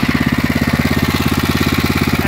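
Briggs engine generator with a leaking muffler idling at low speed, a loud, rapid, even putter of exhaust pulses that stays close and steady throughout.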